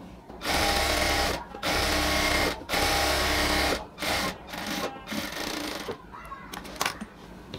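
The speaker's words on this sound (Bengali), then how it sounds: "আবার হচ্ছে মিডল পয়েন্ট থেকে বাকি পাতাতেও আরেকটা সেলাই দিয়ে নেব আমরা।" A sewing machine stitches a ladies' pant in short bursts, each a close, buzzing run of a second or so with brief pauses between, followed by quieter handling and rustling of fabric.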